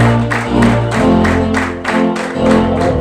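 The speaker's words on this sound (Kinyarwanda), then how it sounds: "tubaha amashyi n'impundu" Crowd applause and ululation greet newly confirmed students at a Catholic confirmation ceremony at Kagarama Secondary School. Steady clapping in rhythmic surges rises over sustained low tones and continues throughout.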